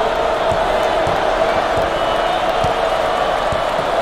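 A basketball video game arena crowd roars steadily in a dense, constant wash, with faint ball bounces and thumps running underneath.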